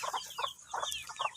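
Backyard chickens cluck in quick, close bursts, several short calls in a row at moderate volume, with no talking over them.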